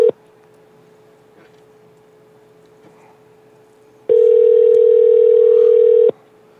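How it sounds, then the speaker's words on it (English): A telephone call connecting, with a steady single-tone line sound, quiet for several seconds, then a loud two-second ring tone burst that cuts off cleanly. "Oh, it's ringing."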